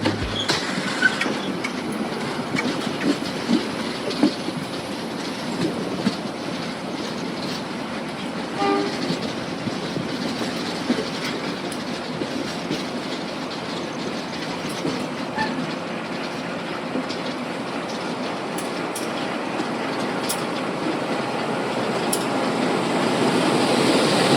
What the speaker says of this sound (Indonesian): kita bersilang dengan kereta api Kuto Jaya Selatan.